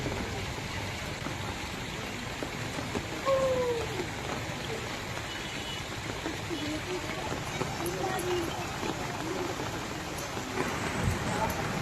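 The first monsoon rain falls steadily as a dense, even hiss of drops on surfaces, with a few faint intermittent sounds mixed in across the whole stretch.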